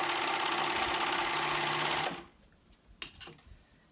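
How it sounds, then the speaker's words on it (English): A sewing machine stitches a sweater sleeve in a fast, steady whir for about two seconds, then stops, leaving a few soft handling clicks and taps in near silence. "I'm sewing that onto the other side."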